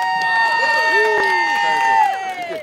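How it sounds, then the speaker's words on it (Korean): Crowd at the SEMA auto parts show in Las Vegas clapping and cheering after a timed window-film forming demonstration on a car, with whoops and excited voices rising over steady applause, close and lively, then tapering off. "이렇게 박수를 쳐주네요"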